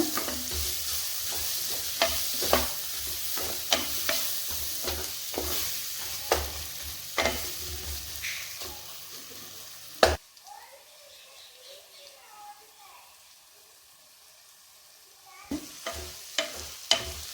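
Chicken semi gravy is stirred in a pan over a simmer, the spoon scraping in repeated close strokes over a soft sizzle for about ten seconds before the kitchen goes mostly quiet.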